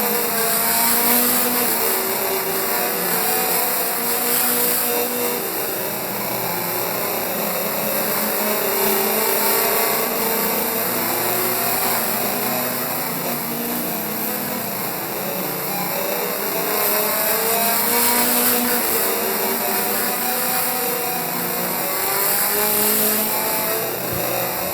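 Race cars battle for the lead at Midvale Speedway, a continuous roar of several engines at a distance, rising and falling as the pack circles, with a steady high whine over it.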